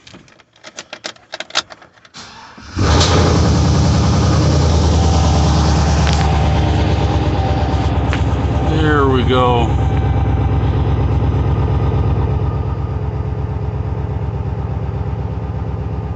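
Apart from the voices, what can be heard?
junkyard 6.0 LS engine idling after first start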